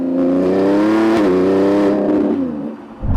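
A Lamborghini Revuelto accelerates hard, its engine revving loud and close in a rising, steady howl that briefly dips, then eases off near the end before a short renewed surge.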